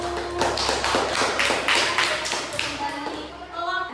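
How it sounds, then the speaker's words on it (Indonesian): Grade 5 classmates applaud group 1 in a classroom after a light-refraction experiment, a steady dense patter of many hands lasting several seconds with voices talking over it. "kasih tepuk tangan untuk kelompok 1"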